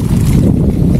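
Powerful wind in Canmore blasts against the microphone in a loud, steady low roar, close and unbroken.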